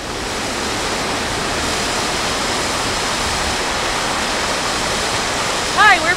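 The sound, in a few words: river flowing near the glaciers in Montana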